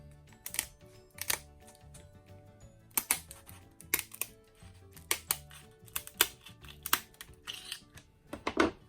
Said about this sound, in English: And let's cut these shells.